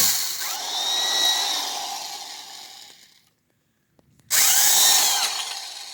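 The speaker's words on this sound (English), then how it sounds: "So what we're going to do is drill the four holes in the corners." A power drill whines loudly as it bores holes in the plastic housing of a Honda HRX 217 push mower, stops for a brief silent pause, then starts up again with the same high whirring.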